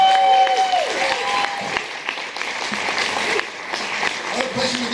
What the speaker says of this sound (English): give a round of applause for the Ennis sisters.